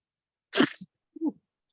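A single sharp sneeze, followed a moment later by a short, lower grunt or sniff; nothing else in the background.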